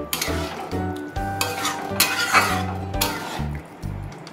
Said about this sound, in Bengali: খুব ভালো করে একটু নাড়াতে হবে